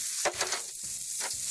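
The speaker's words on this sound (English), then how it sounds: "This is called steam frying" Vegetables steam-fry in a pan with added water and oil for a Pad Thai curry, a loud bright sizzle broken by a few stirring scrapes and bursts of hissing steam.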